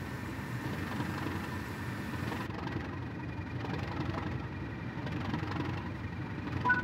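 A locomotive engine in Train Sim World 3 rumbles steadily as it pulls away on a winter route, a low, continuous drone with slight vibration and no clear change in pace.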